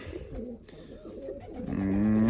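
Young pigeons in a dovecote give soft, low cooing with a rising, louder tone near the end, close by and alone without talk.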